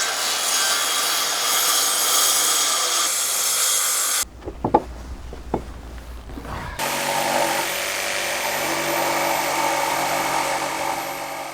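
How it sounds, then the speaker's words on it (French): A handheld circular saw cuts through wooden floor boards for a suspended treehouse, loud and close in two long bursts of whining cutting noise separated by a quieter pause with a few knocks and clunks. "Règle la profondeur d'immersion de la scie circulaire manuelle sur l'épaisseur des planches de sol."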